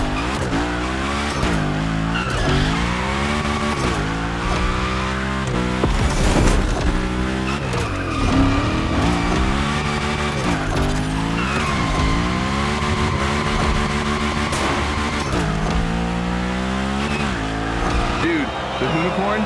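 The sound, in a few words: Hoonigan car drifting with tire squeal in The Crew Motorfest video game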